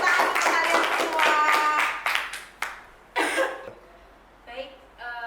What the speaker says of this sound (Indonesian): terima kasih tepuk tangan untuk kalian semua